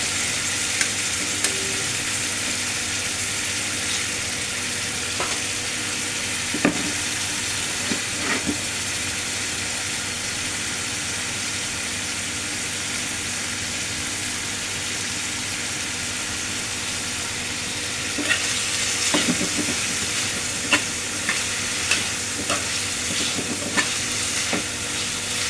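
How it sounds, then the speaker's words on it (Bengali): Potatoes sizzle and hiss steadily in hot oil in a pan, with occasional scraping clinks of a spatula stirring them at intervals, close and continuous with no talk. "আলুগুলো ভেজে নিয়েছি।"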